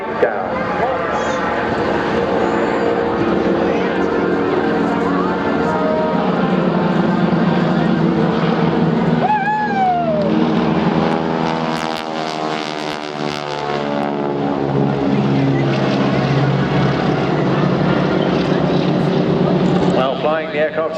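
Boeing Stearman biplanes with big Pratt & Whitney 450 hp radial engines drone loudly overhead during a seaside airshow, a throaty propeller roar with shifting pitch as they pass, under a commentator's continuous announcing.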